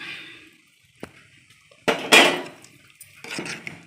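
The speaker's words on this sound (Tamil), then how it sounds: "இப்போ வந்து ஒரு வாட்டி நல்லா கலந்து விடுவோம்." Boiled chana dal being mixed in a cooking pot: a few sharp metal clinks of a spoon against the pot, then short bursts of wet scraping and stirring, close and fairly loud.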